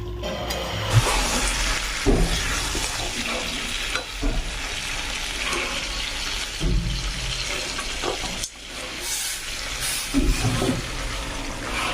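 Water poured into a pot of browned, spice-fried meat curry sets off a loud, continuous sizzle and bubbling hiss that surges in bursts over twelve seconds, with stirring and clattering throughout.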